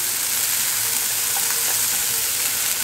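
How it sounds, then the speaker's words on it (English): Garlic goes into a pan of sweating onions and vegetables, giving a loud, steady, close frying sizzle that hisses evenly throughout with no talking. "so I will add in the garlic"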